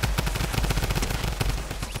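Rapid automatic fire from Jules' jump gun in a mansion gun-game round, loud and close, a fast unbroken stream of shots with heavy low thumps.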